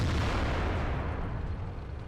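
A tank's ammo rack explodes in World of Tanks: a loud, close, continuous roar of deep rumbling blast noise that holds steady for about two seconds without a break.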